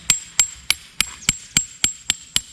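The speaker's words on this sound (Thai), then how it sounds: "แล้วก็ตอกเหมือนเดิมนะครับสี่ห้าองศา" A tarp stake is driven into the ground at an angle at a campsite: nine sharp, evenly spaced hammer blows ring out close and loud, with no talking.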